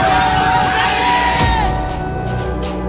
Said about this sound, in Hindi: सैनिकों के नारों से हिमालय की घाटियां गूंज उठी।